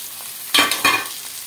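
Chopped onions dropped into hot oil in a pan for a dhaba-style egg masala curry, a sudden loud sizzle with a second stirring burst, then a steady softer crackle of frying.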